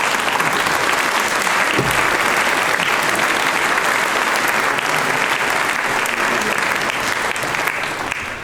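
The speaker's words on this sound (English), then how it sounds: "bring this round of applause out to make them feel loved and appreciated" An audience claps steadily at a school speech day and prize giving, a dense and sustained round of applause that fades slightly at the end.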